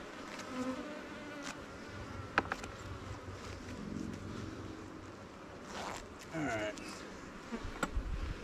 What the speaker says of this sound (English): Not too bad yet, but they're buzzing me.